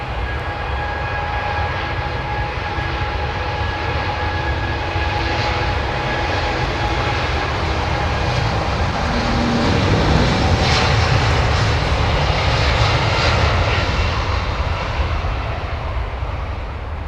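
Airbus A340-600 and A380 jet engines roaring steadily during a late go-around, a loud continuous broadband rumble and whine that swells slightly toward the middle and holds throughout without speech.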